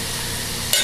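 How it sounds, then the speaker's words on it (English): Dandelion roots and garlic sizzle steadily in a frying pan, a close, even hiss with a couple of brief clinks or stirring bursts near the end. "Yeah, listen to that sizzle."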